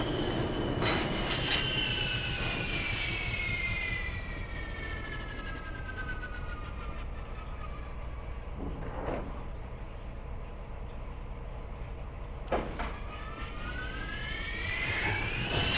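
Spacecraft descending to land on the moon Ariel in the Sol system in the game Elite Dangerous: a steady engine roar and hum throughout, with sweeping whooshing tones rising and falling and a few sharp thruster bursts, loud and continuous with no talking.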